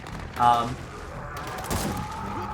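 Boltok revolver, a heavy hand-cannon pistol in Gears of War 4, fires a loud shot followed by a second booming report about a second later, with a rumbling tail after each.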